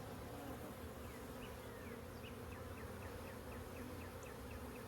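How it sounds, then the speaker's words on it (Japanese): A faint, steady hum comes from package honey bees inside a wooden hive box, with the queen kept caged among the workers. The buzz continues without break and nobody speaks. "女王バチを隔離した状態で働きバチと一緒に巣箱に入れていたので、今から様子をチェックします。"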